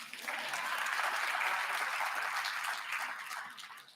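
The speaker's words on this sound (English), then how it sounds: "You give me a hand clap on that." An audience at a gathering of Black educators in New York breaks into steady applause, a dense wash of hand claps that swells and then tapers off over a few seconds.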